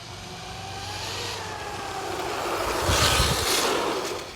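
A Ryft vehicle accelerates in second gear on asphalt, its engine drone rising steadily and growing louder, peaking near the end as it pushes toward top speed; no talking.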